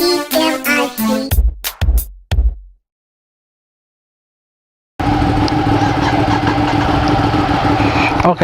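After a burst of chanted music and a moment of silence, a 2017 Ducati Monster 797 engine cranks and catches, then settles into a loud, steady idle close by.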